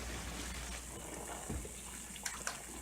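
Water boiling in a pot for cooking pierogi makes a quiet, continuous bubbling and seething hiss, with a few faint clinks near the end.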